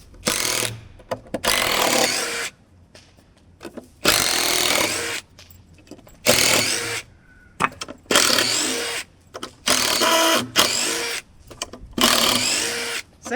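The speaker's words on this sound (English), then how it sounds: "Now I can get the screw all the way out." A power driver backs a screw out in several short whirring bursts separated by quiet pauses, heard close and fairly loud.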